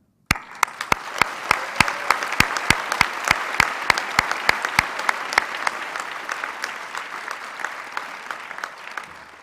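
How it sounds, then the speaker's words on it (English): Convocation audience applauding graduates in a large hall, a steady wash of sustained applause with sharp individual claps standing out near the microphone, continuing for several seconds without speech. "Again, let's applaud them."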